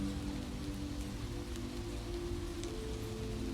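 Rain falls on a dim New York City alley at night, a close, steady hiss of drops on wet pavement with a low hum beneath, constant and fairly loud, no voices.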